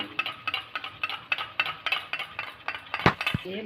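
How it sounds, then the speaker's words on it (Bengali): A spoon beats sour yogurt in a bowl with quick, regular clinks and taps, about five per second. The strokes stay close and steady, ending with a couple of louder knocks against the bowl. "চামচ টক দই নেওয়া হচ্ছে ভালো করে ফেটে নিলাম"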